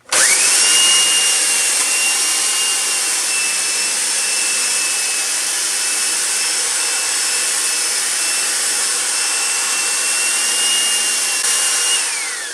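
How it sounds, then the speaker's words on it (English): A belt sander runs steadily as it smooths wooden cutting boards for beef processing, a loud continuous whine and rasp that spins up, holds without a break, then winds down at the end, with no talking. "What we're going to be doing essentially is going ahead and using this belt sander."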